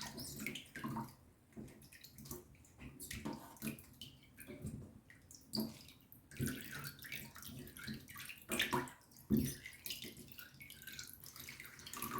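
Chili peppers rinsed under running water before frying, a steady close splash and trickle with irregular drips and clatters throughout, no talking.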